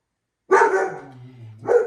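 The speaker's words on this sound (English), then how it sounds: "She is just going for a barking fit." A dog kept indoors breaks into a barking fit, two loud, close, resonant barks with a brief growling tail between them.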